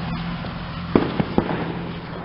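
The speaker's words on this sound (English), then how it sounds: "Oh, there's our artillery shell." Artillery shell firework bursting outdoors in a smoky neighborhood: three sharp, fairly close cracks in quick succession over a steady low background hum.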